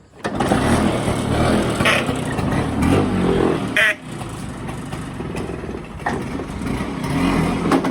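A scooter engine accelerates on a long ride from Surat to Bilimora, a steady loud drone with wind rush and slight rises in pitch, running continuously for several seconds.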